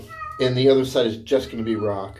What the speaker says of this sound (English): And you can hear my cat outside the door.